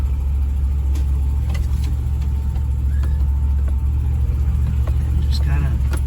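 A Land Rover crawls off-road in second gear and four-low on a Mendo trail, its engine a steady, close, low rumble with a constant drone that holds through the whole stretch.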